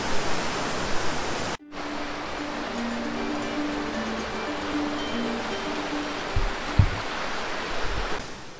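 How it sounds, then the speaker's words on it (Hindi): A river runs steadily on a nature trail at Tanyard Creek, flowing on toward a waterfall, a continuous close rushing wash with a brief dropout and a few low knocks near the end. "ये नदी आगे बहते हुए जा रही है झरना।"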